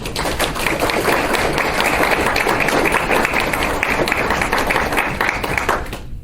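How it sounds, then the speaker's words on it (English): Steady round of applause at a technical advisory committee meeting, dense even clapping from a roomful of people lasting about six seconds before cutting off sharply. "I'd like everybody to join me in a round of applause"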